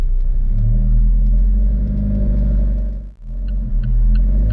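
An Alfa Romeo 4C engine as the car pulls away in first gear, a loud low droning rumble held steady, dipping briefly before picking back up, with no talk.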